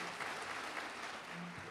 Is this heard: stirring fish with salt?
no